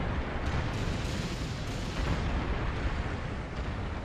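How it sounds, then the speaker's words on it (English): Dense explosions roar nonstop in Final Fantasy 10, a thick, continuous wall of booming rumble and crackle at steady high loudness, with no breaks and no voices. "Explosions everywhere."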